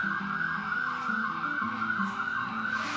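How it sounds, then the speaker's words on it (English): Outside, an ambulance siren wails in a steady repeating cycle at moderate distance, continuous across the whole stretch with a faint low background rumble. "now you can hear an ambulance"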